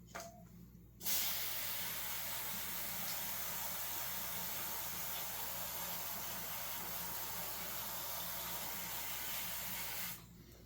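Brake cleaner sprays from an aerosol can in a workshop, a steady, fairly loud hiss lasting about nine seconds that cuts in and off abruptly.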